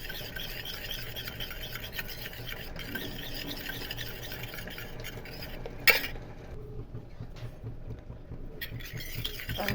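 A spoon stirring a mixture of alum, rose water and almond oil in a small bowl, producing steady scraping and rubbing with light clinks, one louder knock near the middle, close and quiet with no talking.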